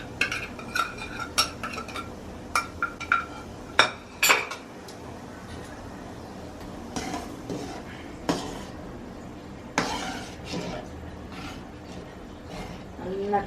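Utensils scraping and clinking in a pot while red spinach curry with masala is stirred and heated, a string of sharp irregular metallic knocks and scrapes up close, with quieter stirring afterwards.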